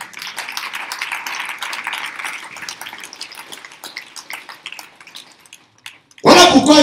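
Congregation in a church service clapping for Jesus, a dense crackle of many hands at moderate distance that thins out toward the end before a loud close burst cuts in.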